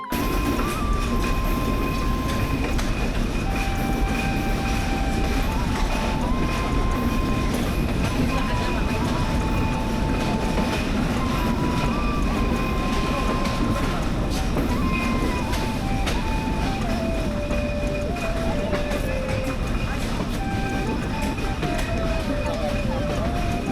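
The Simanta Express passenger train rumbles along steadily with rhythmic clatter and a constant roar, close by and continuous, while a faint whine shifts in pitch.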